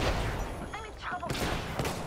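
Gunfire in a team shooter video game, a dense burst of shots under steady background noise, with a short voice callout partway through.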